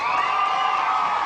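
Studio audience of a 1991 children's geography game show cheering and whooping as a round begins, a bright sustained crowd roar at moderate level, steady for its short span with no distinct voices standing out.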